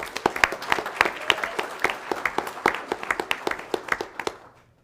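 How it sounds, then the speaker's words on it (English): Audience members at a school board meeting clap, a sparse group of distinct, fairly close claps that fall into an uneven rhythm and then stop abruptly. "Can we give them a round of applause, please?"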